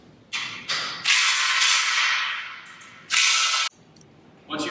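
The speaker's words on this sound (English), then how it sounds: "we're going to start by tightening all the bolts, either using your impact or one of your wrenches" Bursts of an impact driver or wrench tightening squat rack bolts, several loud buzzing runs of uneven length with short pauses between, close by and without talk.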